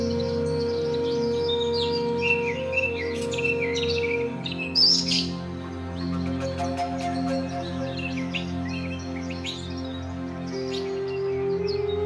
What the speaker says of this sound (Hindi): जब सुबह की धुंध और पक्षियों की आवाज के साथ जंगल धीरे